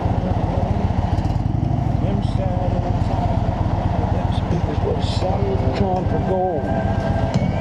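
An Indian Chieftain Limited motorcycle rumbles steadily at close range on a demo ride, a continuous throbbing engine drone with a voice talking over it.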